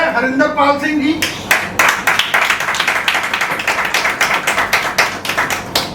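An audience at a business dinner meet claps in welcome, starting after a few spoken words and quickly settling into a fairly small, crisp round of individual claps that carries on steadily to the end.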